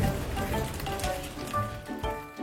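Steady rain falls throughout as a story sound effect, a dense, even patter with no voices over it.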